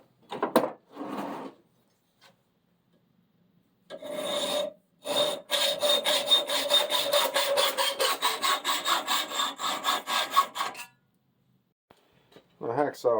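A hacksaw cuts through threaded metal pipe held in couplers, a steady run of rapid rasping back-and-forth strokes lasting several seconds after a few short opening scrapes, close and fairly loud, with no talk over it.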